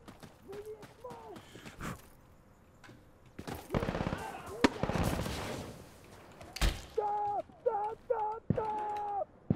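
Bursts of machine gun fire in Insurgency Sandstorm, a loud rattling stretch in the middle among scattered single shots, with people talking before and after the firing.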